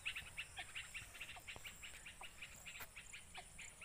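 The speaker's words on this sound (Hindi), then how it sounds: "यहाँ पर बस पक्षियों की आवाज़ें ही सुनाई दे सकती हैं।" Birds call near a quiet rural village, repeating rapid, evenly spaced chirps. The calls are faint and distant over a soft, steady background.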